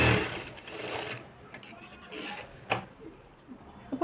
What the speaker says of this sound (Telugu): ఇప్పుడు నేను ఇలా షోల్డర్ మధ్య భాగం నుంచి స్ట్రైట్ లైన్ 5వ నెంబర్ కుట్టు